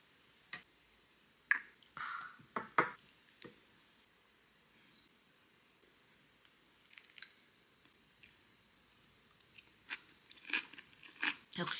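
Freshly made kimchi eaten with white rice gives close, intermittent crunchy bites and wet chewing squishes in scattered bursts, with quiet pauses between.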